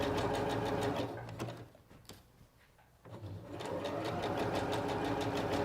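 A Singer Professional 9100 sewing machine with a blind hem foot stitching fabric runs in a fast, even mechanical chatter up close, pauses for about two seconds, then starts up again.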